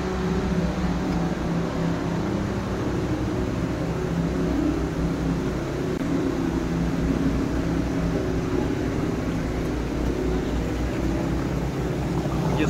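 A firefighters' pump drones steadily as it channels floodwater out of a garage after the Valencia flood, a constant loud mechanical hum with a low rumble and no pauses.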